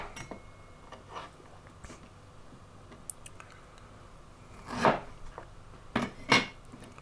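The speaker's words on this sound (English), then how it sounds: "you just need to chop it into manageable chunks that the blender can cope with" Fresh ginger is chopped into rough chunks on a cutting board for a Burmese prawn curry, a few sharp knife thuds spaced far apart against a quiet kitchen background.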